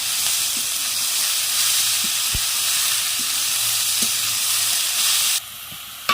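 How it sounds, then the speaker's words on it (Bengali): Shredded cabbage leaves frying with vegetables in a hot pan, a loud, steady close sizzle with faint stirring ticks, easing off near the end. "এবার দিয়ে দেবো বাঁধাকপি পাতা কুচনো"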